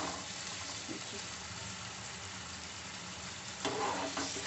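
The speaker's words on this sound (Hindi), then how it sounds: "इसको थोड़ा देर भूनेंगे अंडे को इसी तरीके से, हाई फ्लेम कर देंगे" Eggs fry in a pan over a high flame, a steady close sizzle with a brighter burst of crackling near the end, and no talking.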